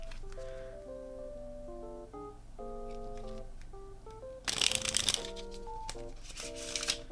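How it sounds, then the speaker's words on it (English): Playing cards riffled and shuffled in a single loud burst partway through, set over steady background music with sustained tones. "Card shuffle sounds."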